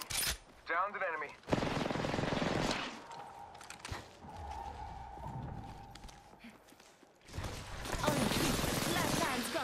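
Gunfire in the battle royale game Apex Legends: bursts of rapid shots and sharp cracks, loud in stretches with quieter gaps, mixed with footsteps and game voice lines.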